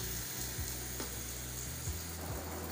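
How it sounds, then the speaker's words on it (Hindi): Marinated chicken frying in oil in a pan for butter chicken: a steady, soft crackling sizzle with faint stirring scrapes, heard alone and close. "पैन में ऑयल डालकर मैरिनेट किए हुए चिकन को फ्राई करेंगे"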